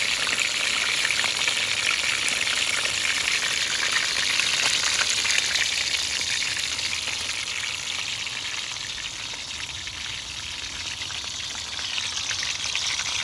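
Onion frying in a pan, a steady close hiss and crackle of sizzling oil continuing evenly with no talk.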